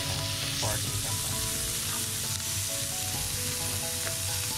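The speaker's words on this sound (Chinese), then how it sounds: "香肠煎好了" Sausages, including octopus- and crab-shaped ones, sizzle in a frying pan for a Japanese bento, making a continuous close crackle with small pops and no voices.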